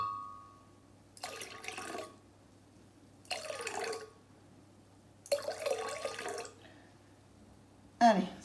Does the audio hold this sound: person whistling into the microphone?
no